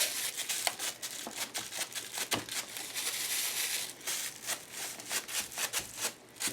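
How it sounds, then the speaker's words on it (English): Soft crinkling and rustling of a scrunched plastic bag pressed against a paper page to add texture, with quick repeated dabs and scrunches, close up and fairly quiet. "Come in with a piece of scrunchy plastic bag"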